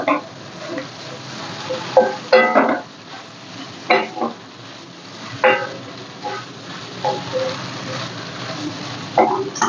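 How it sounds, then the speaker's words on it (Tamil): Kodo millet noodles with paneer, cauliflower, carrot, capsicum, onion and tomato are stirred in a hot pan, giving repeated close scraping strokes over a steady, soft sizzle. "நல்லா கிளறி விட்டுக்கணும்."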